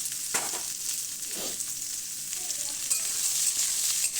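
Amla, Indian gooseberries, dropped into hot oil in a wok, a close, bright sizzle that flares as each batch goes in and then settles to a steady fry.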